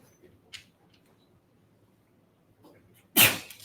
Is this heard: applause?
no